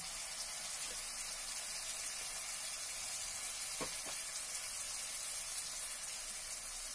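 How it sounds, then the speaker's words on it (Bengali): Mustard paste hits a pan of reddish fried onions and green chillies, giving a steady, close, even sizzle and hiss that runs throughout, with a couple of faint clicks and no talking. "এবার সর্ষে বাটাটা দিয়ে দেবো।"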